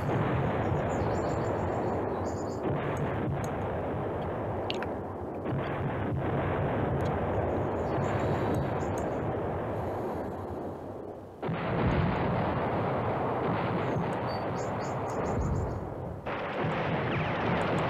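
Artillery fire booms and rumbles continuously in the World War II strategy game Command Ops 2, a dense roaring barrage that dips briefly before surging back, with no voices.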